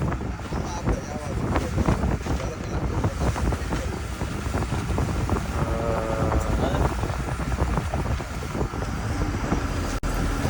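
Parasailing boat at Nagoa Beach, Diu, with a constant engine drone and heavy wind buffeting the microphone, loud and near, while people talk over it.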